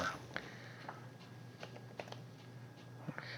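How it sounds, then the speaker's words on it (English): Someone types names on a computer keyboard, giving a run of faint, irregular key clicks scattered over a steady low hum, with no voices. "he's typing in the name in the comments"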